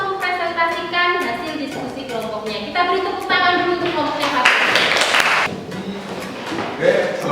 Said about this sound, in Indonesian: Kita beri tepuk tangan dulu untuk kelompoknya Fatir.